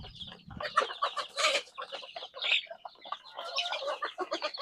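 Native country chickens cluck and chatter on a free-range farm, a dense overlapping flock of clucks and squawks close by, continuous and busy with no talking.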